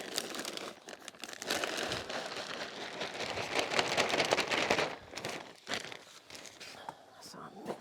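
Bagged manure being mixed by hand in a greenhouse, a close, crinkly rustling and scraping that swells and fades in uneven bursts.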